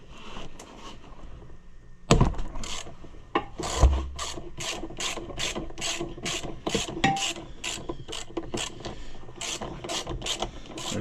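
Socket ratchet working bolts loose while taking apart an old Maytag engine, a steady series of rasping clicks that comes after a sharp knock, up close, with no talk.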